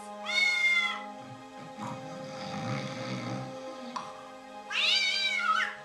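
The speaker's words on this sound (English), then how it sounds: "Who let that blasted cat in here?" A cat meows loudly twice, one drawn-out cry at the start and another near the end, with a low steady hum and muffled background noise between them.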